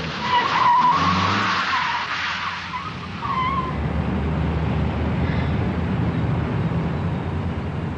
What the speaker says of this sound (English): It just goes on sliding straight ahead for as long as the wheels are locked.